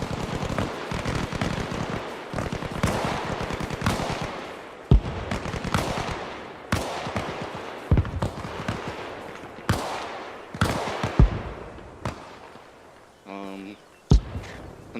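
Gunfire in the video game Arma Reforger during a large team battle, a steady series of sharp loud shots and bursts at uneven intervals, some near and some distant, with radio chatter and voices between them.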